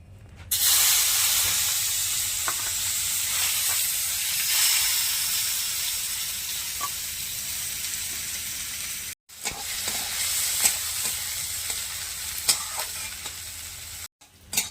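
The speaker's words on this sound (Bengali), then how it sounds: "পেঁয়াজটা হালকা করে ভেজে নিয়েছি" Onions frying in mustard oil in a pan, a continuous loud sizzle and hiss with occasional stirring scrapes, briefly cutting out twice.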